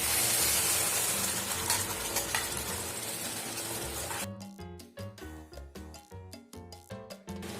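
Tomato paste hits a hot pan for a homemade pasta and pizza sauce, bursting into a loud steady sizzle that breaks into choppy, pulsing frying crackles toward the end.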